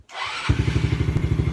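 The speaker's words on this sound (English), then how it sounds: "It ought to just bust off." A Polaris RZR 170 with an airbox mod fires up after sitting a few days, a brief starter whir followed by a small engine catching and idling in a quick, even putter, loud and close.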